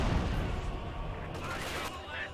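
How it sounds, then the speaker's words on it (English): A light artillery barrage in the WWII strategy game Company of Heroes 2 brings a rumble of rapid booms and gunfire, loud at first and then thinning out, with a commentator talking over it. "Light artillery barrage."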